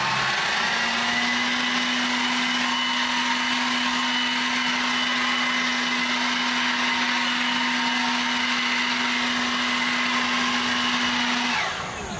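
WeGoFly cordless leaf blower running at high speed, a steady, loud, whining motor and rushing air held evenly for about eleven seconds before cutting off at the end, close and alone.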